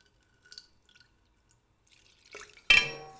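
Water is poured into all-purpose flour for a veganized cucumber kimchi recipe: a few faint drips come first, then a short, sharp splash near the end.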